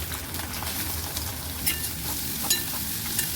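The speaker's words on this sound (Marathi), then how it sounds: "तेल गरम झालेले आहे कांदा टाकून घेऊया" Onion tipped into hot oil in a kadai for Kokani-style dried shrimp, a steady close sizzle with a low rumbling hiss and a few soft clinks.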